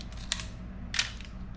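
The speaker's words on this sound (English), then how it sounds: "if you make the shutter a whole lot faster," A vintage film camera shutter set to a fast speed fires, giving two crisp, quiet mechanical clicks about two-thirds of a second apart over a low background hum.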